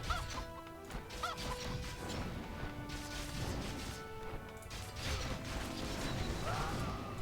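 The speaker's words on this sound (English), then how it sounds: "The chicken is blocking everything!" Chickens cluck in a busy video game match, mixed with mechanical clanks, crashes and thwacks that fill the whole stretch.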